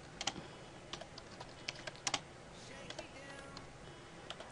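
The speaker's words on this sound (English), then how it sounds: "I'm going to type it into my RuneScape" Light, scattered keystrokes tap on a computer keyboard while a gamer tag is entered in RuneScape, clicking irregularly at low level with a faint room hiss beneath.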